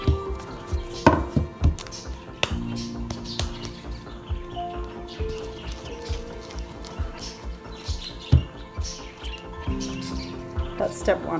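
Hands pat and roll soft sculpting clay into balls, giving a run of soft irregular slaps and taps close by, with a person talking steadily over them throughout.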